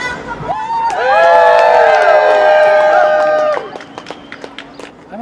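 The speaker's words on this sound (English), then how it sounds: "Give yourselves a round of applause." A large crowd at a resist rally in Orlando erupts in cheering, whoops and shouting for about three seconds, loud and sustained, then fades to scattered voices and a few claps.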